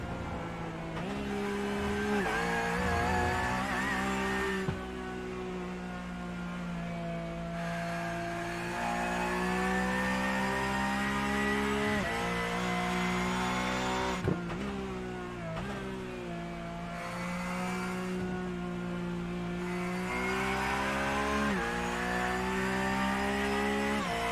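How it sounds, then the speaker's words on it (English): Race cars circle a track, engines droning loud and continuous with rising and falling pitch as they accelerate, shift and pass by one after another, with no talk. "These cars are so awesome sounding."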